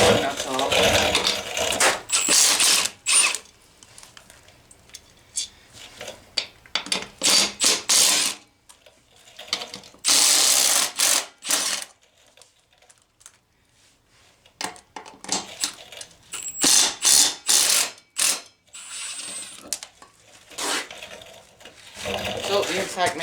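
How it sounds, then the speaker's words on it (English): An impact wrench takes the lug nuts off a jacked-up four-wheeler wheel, giving close, loud rattling hammer bursts in repeated runs separated by short pauses. "So the Impact makes quick, easy work of that."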